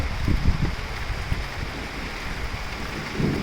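Night rain falling during a storm in Akola city, a steady dense hiss of rain with low rumbles under it, close and continuous, with no voices.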